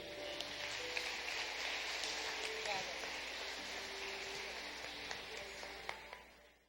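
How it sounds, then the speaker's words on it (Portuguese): Congregation in a church applauding together at an evening family service, a steady wash of clapping sustained for several seconds without a break, moderately loud and even throughout. "Vamos aplaudir o Senhor Jesus"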